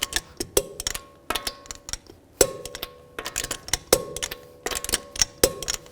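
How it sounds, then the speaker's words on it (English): A torque wrench tightens lug nuts on a 2011-2014 Chrysler 200 wheel hub, producing close, sharp ratcheting ticks in quick runs with distinct metallic clicks and clanks recurring at intervals as each nut is snugged. "I'm going to torque these lug nuts to 100 foot-pounds, and I'm going to do it in a star pattern"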